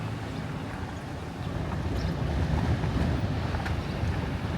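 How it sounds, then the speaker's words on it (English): Strong wind buffets the microphone outdoors in Colorado, a steady low rumbling roar that swells slightly midway and persists for about five seconds, with no talking. "Very windy out here in Colorado today."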